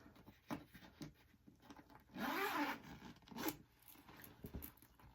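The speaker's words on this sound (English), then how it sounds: "It's got a pretty little zipper there." A tote bag zipper is drawn in a close, loud rasping stretch lasting about a second, followed by lighter scrapes, rustles and a second brief zip, all without speech.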